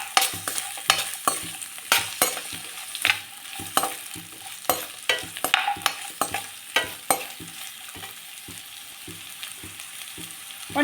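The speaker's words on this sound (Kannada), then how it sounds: "ಫ್ರೈ ಮಾಡ್ಕೊಳ್ಳೋಣ." Onion, garlic and ginger sizzle in a hot pan for masala sambar while a spoon stirs them, with repeated sharp scraping strokes over a constant close frying hiss.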